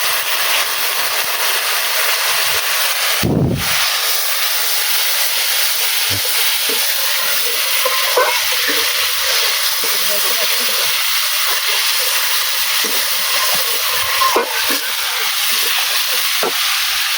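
Spice paste made with chilli powder fries in a pan as water goes in, giving a loud, continuous hissing sizzle with a few brief clatters and knocks from cookware.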